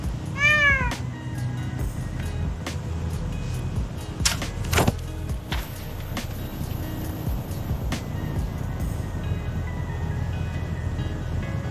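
AI-generated cat in a tornado scene meows loudly with a rising-falling cry near the start, then scattered clicks, swooshes and rumbling wind noise continue beneath.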